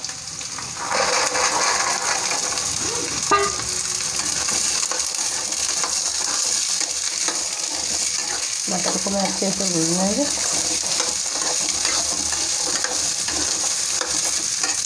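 Green peas frying in a pan with spices while being stirred, a continuous close sizzle with occasional scraping and rattling strokes throughout, no talk.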